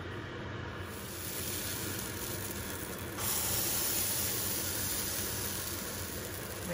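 Keto pancake batter sizzles steadily in a well-greased, very hot skillet, a continuous close hiss that grows a bit louder partway through, with no voices.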